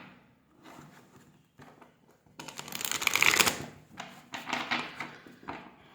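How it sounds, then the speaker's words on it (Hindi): Tarot cards being shuffled by hand at a table, with several bursts of riffling and swishing, loudest in a long run near the middle, close and fairly quiet overall with no speech. "मैं कार्ड्स शफल करती हूँ ना"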